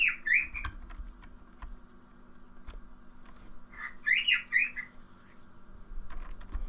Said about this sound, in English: I breed and tame them, so that's why you can hear my cockatiel.